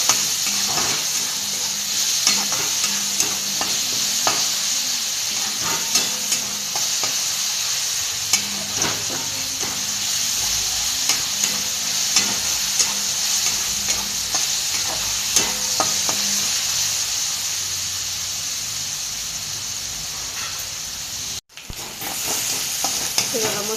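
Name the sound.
onions frying until browned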